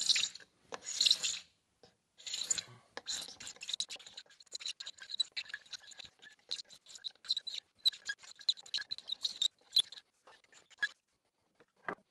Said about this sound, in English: The first thing I need to do is scrape all the epoxy off the bottom side of this top.